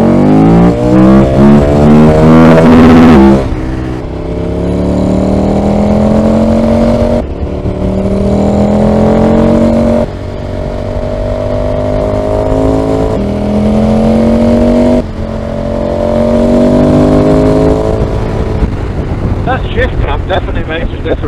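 A motorcycle engine revs hard and accelerates through several gear changes, loud and close, its pitch climbing and then dropping at each shift, with wind roar throughout.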